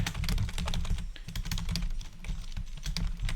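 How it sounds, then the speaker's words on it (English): Fingers type quickly on a computer keyboard, a dense, close patter of key clicks with no pause and no voices. "No, actually, I'll just type in there."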